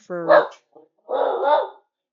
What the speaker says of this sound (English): I don't know what the dog's barking at